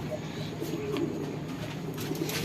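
Soft, low pigeon cooing repeats steadily at close range over a faint background hum.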